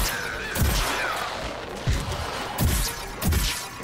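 Cactus shots from the Zen Master Cactus in Plants vs. Zombies Garden Warfare 2 fire in sharp, separated bursts, four punchy impacts spaced about a second apart over a busy game backdrop.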